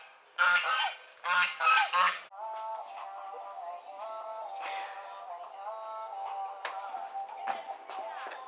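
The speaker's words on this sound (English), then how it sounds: "I heard another goose, guys. It's from the other side." A goose at a nature resort in Malaysia gives three loud, close honks in quick succession, followed by quieter, more distant honking and calling that carries on steadily behind it.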